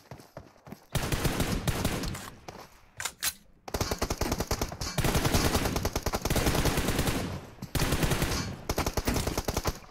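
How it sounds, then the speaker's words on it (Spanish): Rapid bursts of automatic gunfire in PUBG Mobile crackle in long rattling strings, broken by short pauses and a few isolated shots, loud and close. "Bueno, disparo Lulu"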